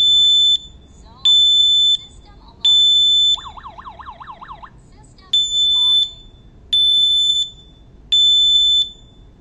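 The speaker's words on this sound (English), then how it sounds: "We trigger the smoke detector again, and the main unit alarms normally." An S20 smoke detector sets off a W184 alarm panel, producing a loud pulsing electronic beep that sounds in repeated bursts, broken once by a warbling siren tone, over faint background noise.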